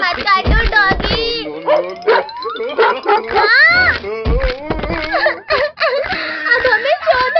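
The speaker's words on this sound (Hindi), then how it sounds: "डॉगी भाई प्लीज हमें मत काटना, वरना हमें 14 इंजेक्शन लगेंगे। मत काटो डॉगी।" Dog barking and whimpering up close in a comedy skit, a string of rapid yips and barks mixed with whining, overlapping a person talking.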